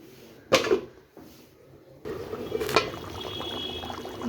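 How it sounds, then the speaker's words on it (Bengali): Koi fish curry in a covered pot comes up to a boil, giving a soft, steady bubbling hiss broken by a couple of sharp clinks near the start and a second burst of simmering later on. "বলক চলে এসছে, ঢেকে দেব।"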